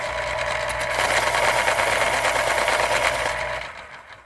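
Electric pencil sharpener grinding a colored pencil, a steady motorized whir with a buzzing grind that holds loud and even for over three seconds, then cuts off and fades.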